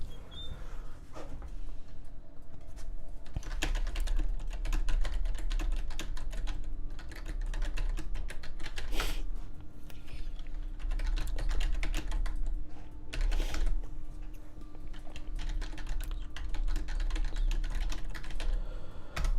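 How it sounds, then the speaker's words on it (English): Typing on a computer keyboard: rapid, uneven clacking of keys close by, with occasional louder strikes and brief pauses, going on steadily with no talking. "Typing away over here."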